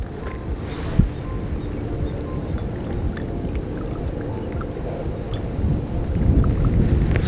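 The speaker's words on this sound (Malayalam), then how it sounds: "ഇനി നമ്മുടെ റിന്ന് ഇതിനകത്ത് ഒഴിക്കാം." Rin detergent is poured into cola, which fizzes with a dense, steady hiss that swells slightly toward the end, with one brief knock early on and no talking.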